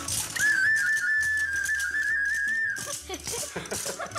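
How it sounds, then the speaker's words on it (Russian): A clay whistle plays a long sustained shrill tone with slight wavering, accompanied by dry clattering of wooden rattles, close and loud, the rattling continuing briefly after the whistle stops. "А вы пока сыграйте мне на свистульке и трещотках."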